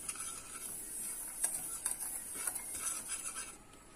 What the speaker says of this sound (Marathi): हे सगळं आपल्याला मिक्स करायचं आहे